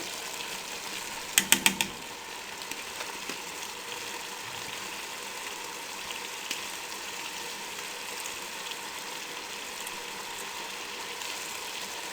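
Mixed vegetables with fresh coriander frying in a pan as a spoon stirs them, a steady low sizzle running throughout with a quick cluster of clicking scrapes near the start.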